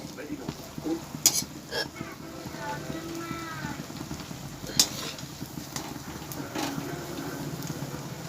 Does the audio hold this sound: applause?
no